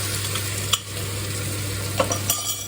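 Vegetables are stirred in a sizzling frying pan, a steady fry hiss broken by a few sharp scrapes and clicks of a utensil against the pan, close and without talk.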